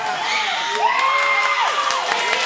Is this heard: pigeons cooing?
no